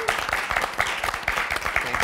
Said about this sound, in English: How about a round of applause for my fine panelists here?